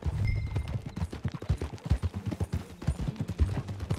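Horse hooves clip-clopping at a steady, rhythmic trot in the video game Red Dead Redemption II, fairly close and moderately loud, with no voices over them.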